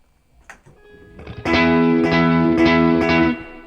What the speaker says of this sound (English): the distortion on side 1 of the Brothers AM, gain at 12